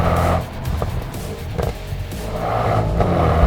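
A 2021 Mercedes-AMG GLS 63 or Alpina XB7 performance SUV accelerating hard, its engine note loud and steady from inside the cabin, swelling between gear shifts with a brief dip and then a rising roar.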